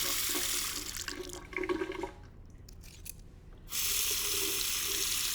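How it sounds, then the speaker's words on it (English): Running tap water rinsing a razor during a wet shave, a steady close rush of water that briefly drops away and returns, with faint squishy handling sounds in the gap. "You're always rinsing."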